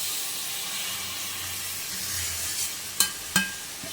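Chopped tomatoes tipped into a hot pan for a tangy tomato thokku, a steady close sizzling hiss with two sharp crackling spurts as the pieces land, no voices.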